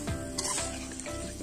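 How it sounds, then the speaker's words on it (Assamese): Chicken pieces and fried potatoes cooking together in a pan on a wood-fired clay stove, giving a steady, close sizzle with brief stirring scrapes and no talk. "এতিয়া মাংস প্লাছ আলু গোটেইখিনি একেলগে মিহলি কৰি লৈ ভাজি ল'ম আমি"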